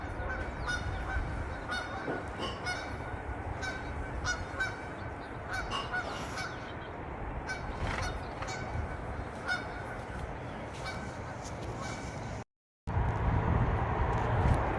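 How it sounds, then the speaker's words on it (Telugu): Ducks honk repeatedly across an open lake in the United States in snowy winter weather, loud nasal calls overlapping in irregular bursts against a steady outdoor background, with a brief dropout near the end. "సరస్సులో బాతులు ఎలా అరుస్తున్నాయి చూడండి"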